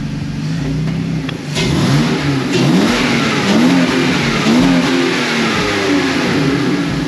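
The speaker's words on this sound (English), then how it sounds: "You can really tell when you revved it" A nearby BMW E46 car engine idles roughly, then revs up repeatedly in rising and falling surges, with a raspy, leaky exhaust note from an exhaust leak running beneath the revs.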